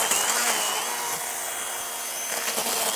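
Whining, steady motor of a battery-powered garden tool cutting down asparagus on a homestead, a bright sustained buzz with small dips as it bites, close and fairly loud with no talk.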